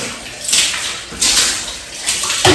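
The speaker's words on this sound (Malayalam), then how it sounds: "ഇനി ബാക്കിയുള്ള വെള്ളം മുഴുവനായിട്ട് നമുക്ക് ഒഴിച്ചു കൊടുക്കാം" Water is poured from a bucket over hair during washing, in three splashing gushes with short pauses between them, close and fairly loud.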